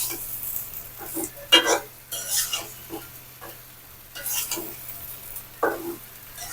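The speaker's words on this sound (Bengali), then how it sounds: "বেগুন আলুগুলো দিয়ে ভালো করে মশলার সাথে মিশিয়ে নেব" Eggplant and potatoes mixed with spices in a pan for a dried-fish curry, heard as intermittent scraping stirs and bursts of sizzling, close and fairly loud, with quiet gaps between.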